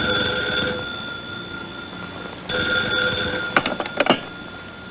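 An old-fashioned telephone bell rings loudly in a late-night room, two sustained bursts of ringing with a pause between, no voices.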